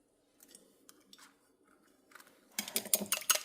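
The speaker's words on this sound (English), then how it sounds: "I'm going to just mix and combine and beat this egg." An egg whisked with a fork in a measuring cup: quiet scattered taps at first, then from about two and a half seconds a rapid run of bright metallic clinks against the cup, close and fairly loud.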